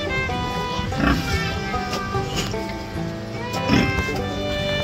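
Pig grunting in a Philippine pig pen, with several short snorting grunts near the start and again toward the end, heard close over steady farmyard background noise.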